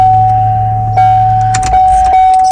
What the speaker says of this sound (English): That actually starts the engine.